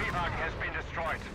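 Anti-tank gunshots in Company of Heroes 3 during a 1v1 match, a few dull booming reports under continuous commentary, with a Matilda tank nearby.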